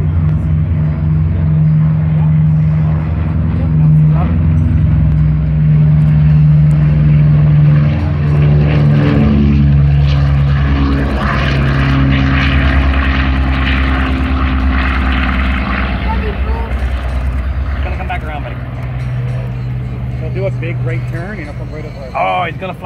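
Boeing B-29 Superfortress FIFI's piston propeller engines drone loudly through takeoff, a heavy steady throbbing roar that swells and slowly fades, with people talking nearby.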